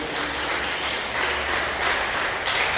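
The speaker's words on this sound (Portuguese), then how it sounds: "Dê uma salva de palmas bem alegre para Jesus" A church congregation claps together in a steady, loud wash of applause that continues without pause throughout.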